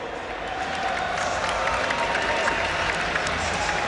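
Esports crowd at a League of Legends match at Gamescom, cheering and applauding for team Curse with a dense, sustained roar of many voices that swells after the first half second and holds loud throughout.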